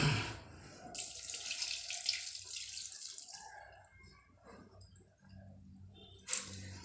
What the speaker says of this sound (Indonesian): Kita cuci beberapa kali, kita ulang beberapa kali agar bersih kedelai yang akan kita rebus dan kita laksanakan untuk pembuatan tempe.